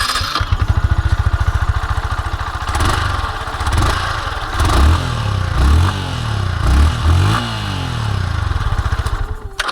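A Yamaha R15M motorcycle idles at a standstill. Its exhaust gives a loud, close, smooth thrum with a few short throttle blips in the middle. No one speaks over it.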